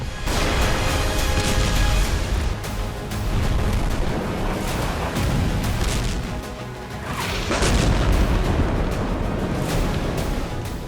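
Heavy bombardment of explosions and artillery fire, a dense continuous roar of booms and crashes that swells and ebbs throughout, loud and unbroken with no voices.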